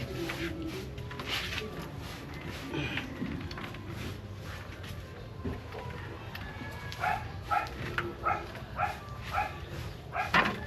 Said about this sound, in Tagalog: Maraming aso dyan sa kabilang bahay